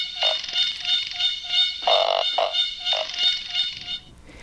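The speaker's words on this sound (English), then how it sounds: "We have Empress cicadas from Borneo." Empress cicadas from Borneo buzz in a loud, sustained high-pitched drone with pulsing swells, layered alongside repeated short lower calls, steady and close throughout before thinning out at the end.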